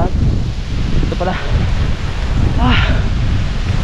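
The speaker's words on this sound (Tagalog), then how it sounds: "Grabe lakas ng hangin" Strong wind buffets the microphone in a loud, continuous roar, with a couple of brief voices partly drowned out beneath it.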